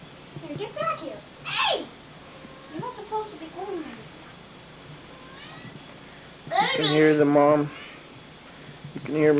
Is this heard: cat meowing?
yes